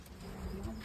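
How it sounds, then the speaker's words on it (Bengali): A Kaldom pigeon cooing, a short, low, soft coo close by, lasting under a second with faint room noise. "এই সেই কালদম কবুতর"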